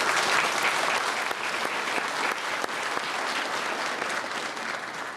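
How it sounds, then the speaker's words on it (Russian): Loud, sustained applause from a large conference audience, dense clapping that holds steady throughout without any voices on top. "Бурные аплодисменты."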